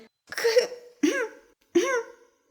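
Three separate coughs, close and fairly loud, each a raspy burst with short silences between them.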